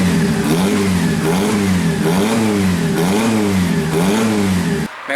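A Fiat 147 engine with a sporty aftermarket exhaust revving repeatedly in rhythmic rising and falling sweeps, loud and close, ending with an abrupt drop.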